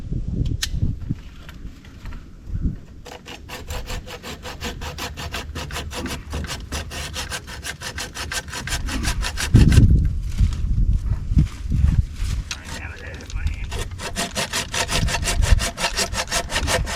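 Hand saw cutting through wood at an angle, rapid rhythmic back-and-forth rasping strokes, close and loud, pausing briefly then resuming in long steady runs.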